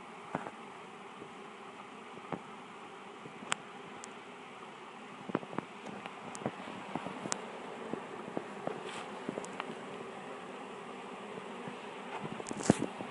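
Honey bees buzz steadily around a freshly installed hive, a soft continuous drone with scattered close clicks and taps from handling, no voices.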